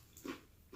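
Crisp, crunchy chicken wing skin from a Power Airfryer XL being bitten and chewed close up, two short quiet crunches a fraction of a second apart.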